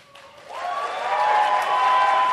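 Audience applause at a New Jersey lieutenant governor debate, swelling from quiet to a full, steady round of clapping that holds loud and sustained to the end.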